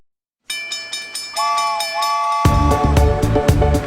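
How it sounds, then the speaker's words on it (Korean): A train departure effect: a rhythmic clacking of wheels begins, a whistle sounds over it, then the rumble swells loud and dense as the train pulls away, up close. "기차 출발합니다. 모두 모두 타세요."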